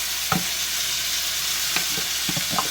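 Washed rice sautés in a pan with garlic, onion, shallot and ginger for Hainanese chicken rice, a steady hissing sizzle broken by several scraping stirs of a spoon, close and continuous, with no speech.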